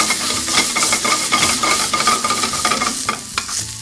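Shrimp and garlic sauté in a pan, stirred often, making a close, lively sizzle broken by scraping strokes and clacks of a utensil against the pan.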